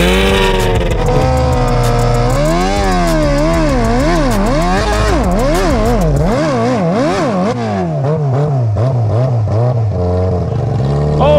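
A new jet ski running wide open on ice, its engine a loud, close whine that swings up and down in pitch, then settles lower toward the end.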